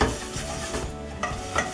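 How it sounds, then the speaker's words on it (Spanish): Egg yolks whisked with three spoonfuls of sugar for a peach tart cream, a steady close scraping and stirring in a bowl with a few louder strokes, no talking. "que la vamos a mezclar con 3 cucharadas de azúcar. Vamos a mezclar esto primero."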